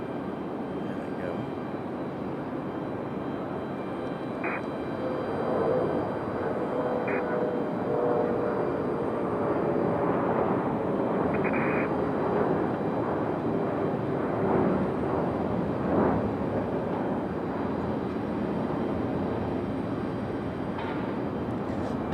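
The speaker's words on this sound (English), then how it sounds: "Should be a nice early rotation for this CRJ." A CRJ regional jet takes off at Raleigh-Durham International Airport, a broad, steady roar that swells midway and holds, heard from a distance outdoors.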